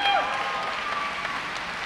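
Audience applause at a Salvation Army commissioning banquet in the USA West territory, a dense, steady wash of clapping across the whole stretch with faint voices mixed in.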